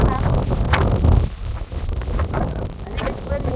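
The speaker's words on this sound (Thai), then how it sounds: "ลมแรงมากนะคะ" Strong wind in Switzerland buffets the microphone in heavy, uneven low rumbling gusts as someone talks throughout.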